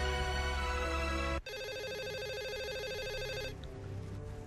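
A telephone rings late at night, a loud repeated electronic ringtone with steady tonal pulses that cuts off abruptly and resumes, continuing alone with no talking.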